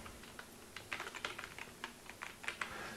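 Keys on a computer keyboard tapped out in an irregular run of light clicks as a page title goes into OneNote, close and fairly quiet, with no talking.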